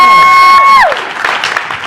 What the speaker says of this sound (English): Give it up one more time for Miss Margaret.